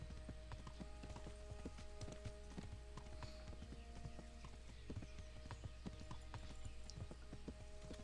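Steady clip-clop of horse hooves from a faster mount ridden in the medieval video game Kingdom Come: Deliverance, a quiet continuous trotting rhythm under low game ambience.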